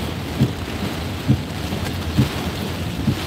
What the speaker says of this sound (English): driving in the heart of Tropical Storm Michael